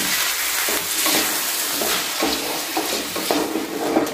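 Constant loud sizzling of cauliflower frying in hot oil in a wok, with occasional scraping stirs and no talking.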